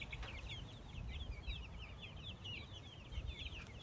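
A hen clucks near baby chicks, a faint run of short repeated clucks over steady background noise, with no one talking.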